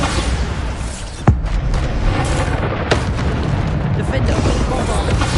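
The Bombarda explosion spell is cast in Hogwarts Legacy, a sharp whooshing zap followed by booming bursts amid dense combat noise, with a second hit a moment later and a voice speaking over it.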